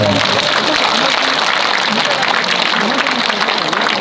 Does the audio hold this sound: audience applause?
yes